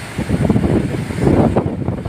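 Strong wind buffets the microphone at a beach, a loud, continuous roar with gusty swells and low rumbling, with no voices.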